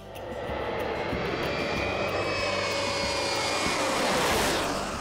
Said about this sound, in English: We're riding in the passenger part of the aircraft, behind the pilots and the flight engineer.